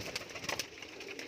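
Teddy cross kalsira pigeons coo softly and continuously at close range, with a steady low murmur of several birds and no voices.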